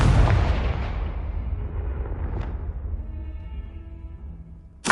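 A Confringo spell blast in Hogwarts Legacy strikes with a heavy, booming burst that decays into a long rumbling tail, with a faint crack midway and a sharp hit at the very end.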